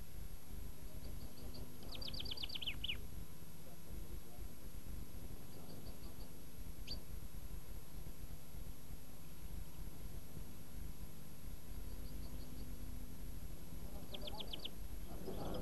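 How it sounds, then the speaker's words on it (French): A chaffinch sings short, bright descending trills a few times over a steady low rumble of background noise, fairly distant and faint. "Vous avez ici un pinson."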